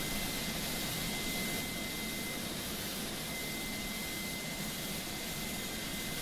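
An MU-2 turboprop aircraft idles in Microsoft Flight Simulator, a steady, even engine whine and roar that holds at a constant level throughout with no talk.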